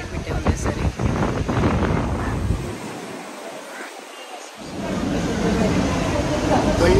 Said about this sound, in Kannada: ತುಂಬ ಗಾಳಿ ಬೀಸ್ತಾ ಇದೆ ಇವಾಗ ಸಂಜೆ ಟೈಮು